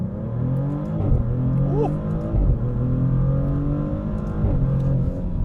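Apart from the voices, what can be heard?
Maserati GranTurismo Trofeo twin turbo V6 accelerating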